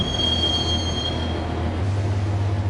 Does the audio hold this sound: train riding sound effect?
yes